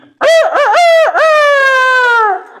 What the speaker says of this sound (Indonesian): Dodo ini ketika mendengarkan suara kokokan ayam